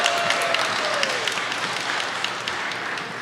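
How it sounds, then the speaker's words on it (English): Audience applause welcoming a CEO onstage at a mental health talk: dense, steady clapping from a room full of people, holding at an even level throughout. "Please welcome her with applause."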